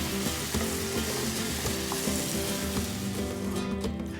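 Pork and black beans with chili being stirred in a slow cooker, a steady sizzling bubble with spoon scrapes and knocks against the pot, close by and without voices.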